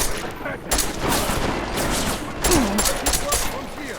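Gunfire in the shooter game Deus Ex: Mankind Divided, dense rapid bursts of automatic shots that run continuously and loudly throughout, with voices shouting over the din.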